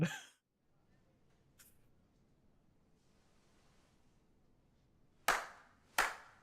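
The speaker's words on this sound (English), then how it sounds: "there's the loud clap" Two sharp, loud claps ring out in the Yakuza Kiwami 2 video game, spaced under a second apart near the end. Before them comes a long, quiet stretch with a faint earlier blip.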